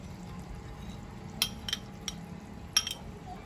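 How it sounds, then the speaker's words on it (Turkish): Tomato paste being stirred into food in a pan, a quiet low scraping bed with a few sharp clinks of a utensil against the pan, spaced irregularly. "Şöyle biraz karıştıralım."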